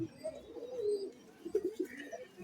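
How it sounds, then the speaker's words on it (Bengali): Pigeons coo softly in a series of low, rounded calls, close by with a brief pause between phrases and no voices. "এসব হচ্ছে পায়রা"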